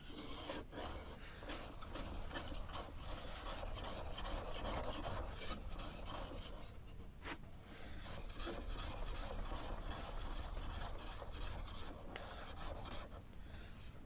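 A No. 6 hand plane blade being sharpened by hand on a DMT 250mm DuoSharp diamond whetstone, a steady gritty rasping of metal on the plate in continuous back-and-forth strokes, close and alone with no talk.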